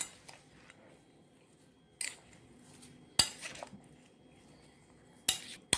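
Broccoli chicken salad with thinly sliced apples tossed in a bowl, quiet with a few short clinking and scraping bursts of utensils against the dish, close and sparse.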